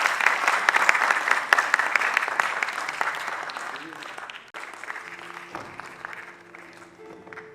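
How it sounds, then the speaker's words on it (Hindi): Loud applause from an audience greeting a dignitary at a ghazal album launch starts dense and lively, then thins and fades over several seconds. "जोरदार तालियां फॉर आवर डिग्निटरी।"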